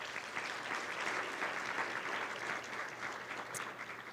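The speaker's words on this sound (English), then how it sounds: "Let's give a round of applause." Audience applause fills a community luncheon hall at an Alliance for Education event in Seattle, a steady, dense clapping that holds evenly for several seconds with no voices over it.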